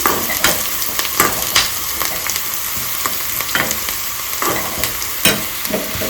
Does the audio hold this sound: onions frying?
yes